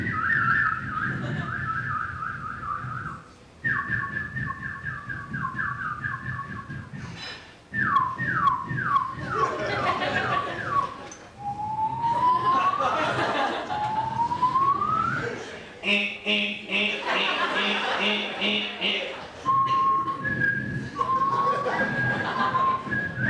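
A comedian on stage vocally imitates a car alarm that cycles through many sounds, giving warbling whistles, rising sweeps, rapid chirps and beeping bursts in quick succession for about twenty seconds.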